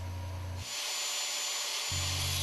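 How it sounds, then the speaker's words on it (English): A grinder cuts into a steel spring coil: a steady motor hum gives way to a bright, harsh grinding hiss as the wheel bites into the metal, then the hum returns. "Grinding halfway through the thickness of the metal from both sides allows it to be easily snapped off"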